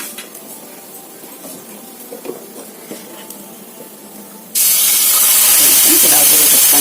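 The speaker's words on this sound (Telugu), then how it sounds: "నెక్స్ట్ దోశ మళ్ళీ వేసేసుకున్నాం అండి." Dosa batter hits a hot pan partway through and bursts into a loud, steady sizzle that continues to the end, after quiet kitchen clinks and light handling noises.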